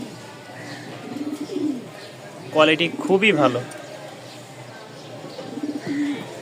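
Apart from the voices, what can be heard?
pigeons cooing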